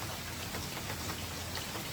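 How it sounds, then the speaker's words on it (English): Heavy rain falls steadily on a camper at the end of the camping season, making a dense, even hiss that fills the whole short stretch with no pauses or voices. "the rain's actually coming in the opposite direction"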